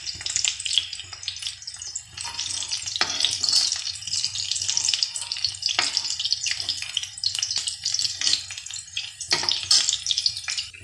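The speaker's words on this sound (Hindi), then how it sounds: "लो जी लहसुन अपना ब्राउन हो गया।" Garlic browning in a hot pan gives off a steady, crackling sizzle with scattered pops and light stirring scrapes, close and fairly loud throughout.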